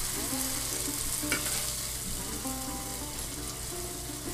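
Flour and vegetable broth being stirred in a pot for South Texas-style turtle soup, a wet, bubbling churn with soft scraping and a light sizzle, steady and close with no talking.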